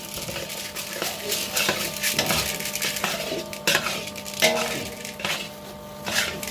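Roasted gram being mixed with jaggery for laddu, close scraping and stirring with clatters and crackly knocks against a vessel in an uneven rhythm.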